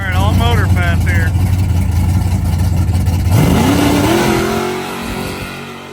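ZZ632 big block in an OBS Chevrolet truck making a drag strip pass, a loud droning engine that holds at idle, then climbs sharply in pitch as it accelerates. A voice talks over the start.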